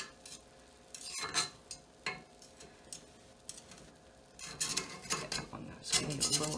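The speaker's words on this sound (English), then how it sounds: "So we'll go ahead and just run our knife around the edge here." A knife is run around the edge of a cast iron pan of baked cornbread, giving a series of short, quiet scraping and rasping strokes in uneven bursts.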